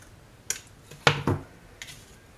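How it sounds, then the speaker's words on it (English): A few crisp scissor snips cutting a watercolor wreath for a card, two close sharp cuts in the middle with fainter ones before and after, set against a quiet room. "I'm going to cut the wreath"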